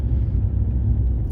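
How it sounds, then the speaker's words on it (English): Steady low rumble of road traffic heard from inside a car driving into Bray, County Wicklow, Ireland, a continuous engine and tyre drone with no voices. "Sorry about the traffic, but there's nothing I can do about that."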